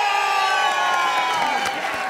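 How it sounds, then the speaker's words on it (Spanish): A television studio audience erupts in loud cheering and whooping with applause for veteran comedian Luis de Alba, a sustained crowd roar with shouted voices throughout. "¡Aplauso para el señor Luis de Alba!"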